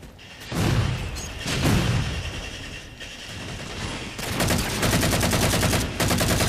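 Battle rifle gunfire in Halo 4, heard as repeated bursts of shots in a busy multiplayer match, with a dense stretch of rapid firing toward the end, loud and close.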